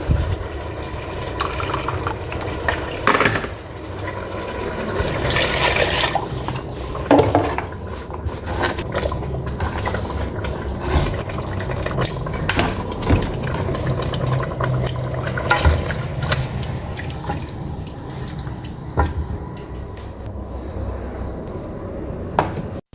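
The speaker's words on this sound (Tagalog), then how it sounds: "Lagyan natin ng tubig." Tap water poured into a pot of simmering white bean soup with carrots, a steady splashing fill running under clinks of pots and utensils in a home kitchen.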